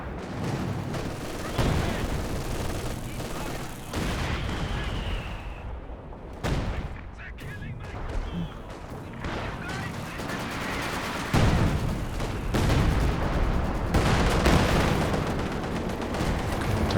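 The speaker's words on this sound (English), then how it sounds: "There are plenty of targets for the counter barrage to land on." An artillery counter barrage in the Company of Heroes 2 game: repeated loud booming impacts and bursts of gunfire in dense, continuous battle noise, with a voice talking over it.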